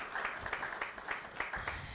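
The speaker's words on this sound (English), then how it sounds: "Another round of applause" An audience applauds at an award ceremony for a registrar's office excellence scheme, a steady patter of many hands clapping at moderate distance, fairly faint and continuous.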